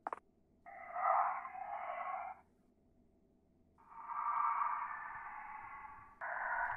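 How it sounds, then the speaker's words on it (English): A phone rings in a video game with two long electronic trilling rings separated by a pause and a third beginning at the end, clear and steady over a faint background hum. "Oh, we're getting another phone call."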